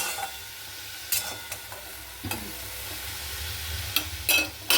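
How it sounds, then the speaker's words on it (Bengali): Bitter gourd fries with green chilli, salt, turmeric and nigella seeds, a soft continuous sizzle broken by several sharp stirring scrapes and clatters, clustering toward the end. "উচ্ছে ভাজছি দেখো, নুন হলুদ কালো জিরে ফোড়ন দিয়েছি"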